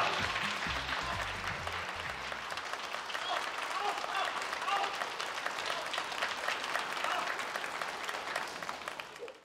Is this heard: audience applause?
yes